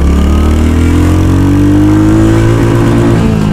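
A Royal Enfield Hunter 350 motorcycle accelerates hard in first gear, its engine note climbing steadily in pitch, loud and close throughout with no talking.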